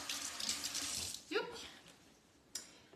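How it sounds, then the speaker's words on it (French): Hands rinsed under a running kitchen tap while making a pear and chocolate galette des rois, a brief close hiss of flowing water that stops, followed by a faint splash and a short later burst. "Attendez, je me rince les mains."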